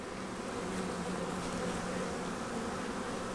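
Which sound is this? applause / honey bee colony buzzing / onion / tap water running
honey bee colony buzzing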